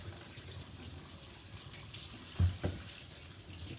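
Tap water running over local lettuce in a sink, a steady soft splashing stream with a couple of brief louder knocks, close and fairly quiet.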